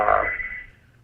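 A telephone rings during an interview: a single loud electronic ring tone that quickly fades away, with no talking over it.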